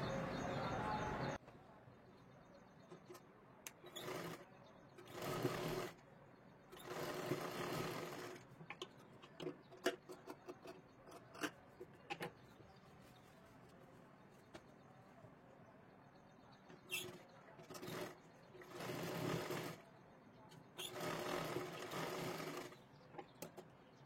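A domestic sewing machine stitching a 34-size katori blouse, its rapid mechanical chatter coming in bursts of several seconds separated by pauses, with someone talking quietly in between.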